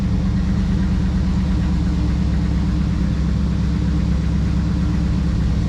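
A 1985 Ford Mustang LX 5.0 Fox body barn find idles steadily on a cold day, a low, even rumble of the V8 heard close up and alone, with no change in pace.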